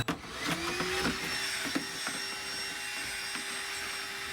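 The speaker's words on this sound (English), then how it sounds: "Gonna vacuum up all this stuff." A vacuum cleaner sucks up debris inside a Honda Civic, a steady whining roar with a sustained tone and scattered clicks and knocks as bits rattle up the nozzle.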